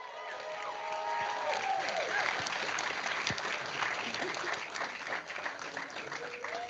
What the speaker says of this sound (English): Give a round of applause to our grant winners